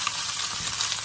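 Fish, thick pieces going in first, sizzles and crackles in hot oil in a frying pan, a steady bright hiss close by.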